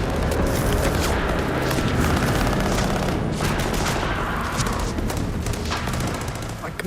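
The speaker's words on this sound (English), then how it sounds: "I could hear the guns firing" Battle gunfire fills the scene without a break: dense, overlapping rifle and machine-gun bursts mixed with heavy booms. The din is loud and continuous, with no voices.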